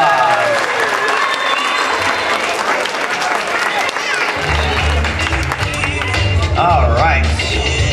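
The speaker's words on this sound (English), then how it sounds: "Give him a round of applause." Applause breaks out after a magic trick with a piece of paper, steady clapping that stays loud throughout, with crowd noise and a low rumble joining in partway through.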